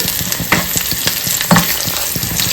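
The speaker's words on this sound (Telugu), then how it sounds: "ఈ రెండు కలిపి కొద్దిగా ఫ్రై అవనిద్దాం" Steady, loud sizzling of chana dal frying in hot oil as a tempering, crackling continuously with a few sharper pops and stirring clicks.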